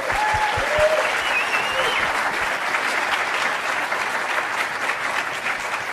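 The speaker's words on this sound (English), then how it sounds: "So give him a good applause." Warm, sustained applause fills the room at a Toronto Z-Day activism gathering, a continuous wash of many hands clapping at steady volume, with a few faint voices audible early on.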